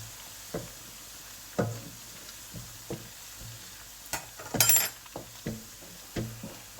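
Chickpeas frying in a pan for Lahori street-style chana, a quiet low sizzle under repeated utensil strokes and knocks against the pan, with one brief metallic clink near the middle, no talking.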